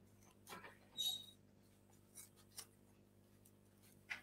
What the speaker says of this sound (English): And then get your scissors and then cut.